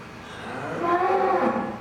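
A dairy cow in a barn moos once, a long low drawn-out call rising in the middle and fading at the end, fairly close with nothing else around it.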